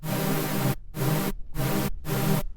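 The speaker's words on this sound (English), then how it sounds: "I'm going to turn down this white noise a little bit." A harsh hissing synthesized white-noise layer plays in four sustained bursts separated by brief silences, loud and bright with a low tonal hum underneath, in a hip hop beat.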